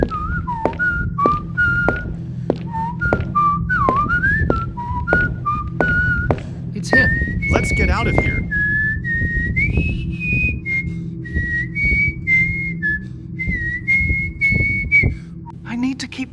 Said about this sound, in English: I need to keep working on my whistling